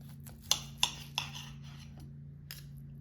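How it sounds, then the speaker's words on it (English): A knife slices through an air-fried turkey tenderloin, giving several quiet, sharp clicks as the blade meets the board, spaced irregularly over a faint steady hum. "let's slice it and try it"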